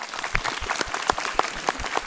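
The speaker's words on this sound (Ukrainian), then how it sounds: "я прошу ваші оплески для неї." A crowd at a media forum in Ukraine claps together, a brisk burst of applause with sharp individual claps standing out, fairly loud and close.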